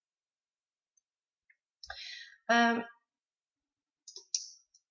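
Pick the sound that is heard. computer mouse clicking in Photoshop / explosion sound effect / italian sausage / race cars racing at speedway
computer mouse clicking in Photoshop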